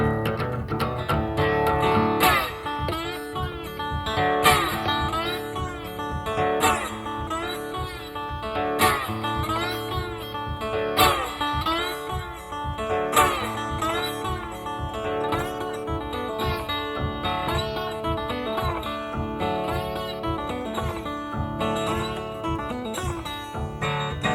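An electric guitar plays bending, sliding notes over a rhythmic strum, mimicking the hiss and squeal of a train's air brakes, loud and continuous.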